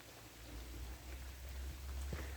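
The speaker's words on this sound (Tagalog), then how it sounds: "bilisan natin dahil umuulan. Kasi nababasa na yung phone." Rain falls at Tai Tam Reservoir in Hong Kong along a hiking trail, a faint, steady hiss with a soft low rumble underneath and no voices.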